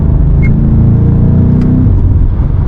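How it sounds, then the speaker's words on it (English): A BMW M5 Competition engine revs hard at full throttle at night, a loud low rumble with harmonic whine filling the whole stretch, close by. "I had to floor it so you guys can hear the car"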